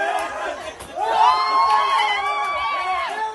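Brazilian football fans in a Florida bar erupting in excited cheering and shouting after a goal, a dense, close crowd roar that swells and holds throughout.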